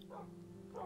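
A pack of four dogs in the Minecraft video game yips with two brief barks at the start and end of a short stretch of steady background game noise.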